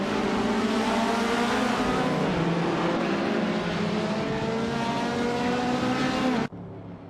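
Race car engines roar steadily during a race including a 1964 Austin Healey 3000, a loud sustained engine drone that cuts off abruptly near the end.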